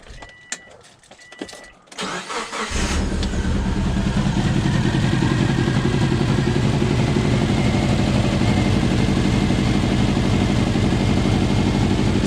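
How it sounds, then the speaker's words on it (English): A misfiring car engine idles steadily after a brief starting clatter, its low rumble loud and continuous with an uneven, stumbling pulse. "this car has a pretty bad misfire, so it's gonna not run well"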